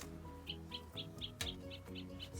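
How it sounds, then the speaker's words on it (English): A greater spotted woodpecker gives a steady run of about nine sharp, high call notes, evenly spaced, over a constant tonal background. "Greater spotted woodpecker"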